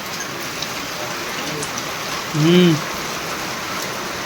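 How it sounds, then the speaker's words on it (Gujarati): Constant heavy rain hisses steadily throughout, and a person briefly hums a short note partway through. "ફૂલ વરસાદ ચાલુ થઈ ગયો છે"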